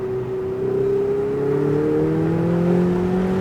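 A Lamborghini Huracan accelerates on a track, its engine note climbing smoothly and steadily, loud and close from start to finish.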